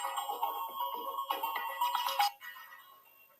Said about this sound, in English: Phone was ringing, sorry.